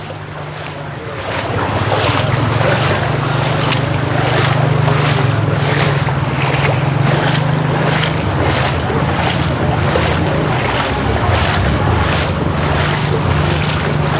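Steady roaring wash of floodwater in heavy rain with wind noise, loud and continuous throughout, a low rumble running underneath.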